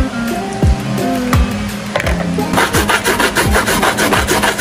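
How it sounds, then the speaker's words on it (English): A coconut is grated by hand against a grater for Jamaican sweet potato pudding, giving steady, close, rhythmic rasping strokes about twice a second that quicken toward the end. "So now the big man is grating the coconut."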